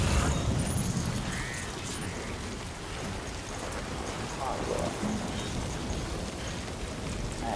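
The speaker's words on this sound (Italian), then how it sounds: "Crono pioggia." Timefall rain in Death Stranding 2 patters steadily across the ground, a dense hiss with scattered heavier drops and faint low rumbles beneath, fairly quiet overall, with someone speaking softly over parts of it.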